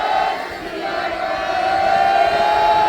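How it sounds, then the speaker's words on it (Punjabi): A large Sikh sangat roars the jaikara response "Sat Sri Akal" at an outdoor tower protest gathering, one sustained, loud collective shout held for about three seconds that swells slightly toward the end. "ਮੈਂ ਇੱਕ ਜਕਾਰਾ ਬੁਲਾਉਣਾ ਤੇ ਗੱਜਵੀ ਆਵਾਜ਼ ਦੇ ਨਾਲ ਪੂਰਾ ਸਮਾਣਾ ਲੈ ਜਾਏ ਬੋਲੇ ਸੋ ਨਿਹਾਲ"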